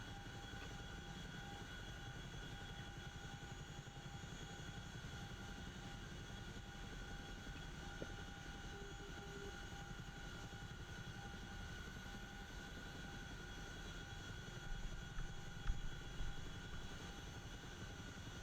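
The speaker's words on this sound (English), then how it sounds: "So I'm slightly overspeeding the helicopter by 190 knots." Boeing CH-47 Chinook twin-rotor helicopter in DCS World flying fast at overspeed, a steady, even drone of engine and rotor whine with tonal bands, holding constant throughout without talk.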